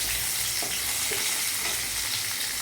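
Chopped green chillies hitting hot oil with garlic that has turned reddish, a loud, dense, steady sizzle close by, with a few stirring scrapes against the pan and no talking.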